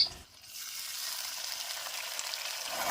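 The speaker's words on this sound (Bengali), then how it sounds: "এবারে আমি সামান্য পরিমাণে জল দেব যাতে করে মশলাটা পুড়ে না যায়" Ginger-garlic masala sizzles steadily in a pan after a splash of water, a dense hiss that starts abruptly and holds at an even level throughout.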